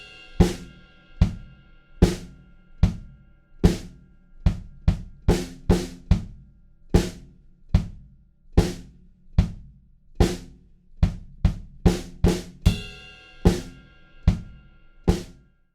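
Drum kit plays the bridge of a song, with sharp, evenly spaced hits that bunch into quicker flurries, close, punchy and alone without voices.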